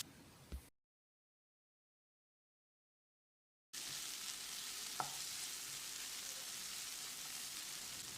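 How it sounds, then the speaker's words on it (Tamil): Chopped tomatoes and onions sauté steadily in hot oil in a pan, a continuous bright sizzle heard up close after a short silent gap, with one faint stirring tick partway through. "தக்காளி மசிகிற அளவுக்கு வதங்கணும்."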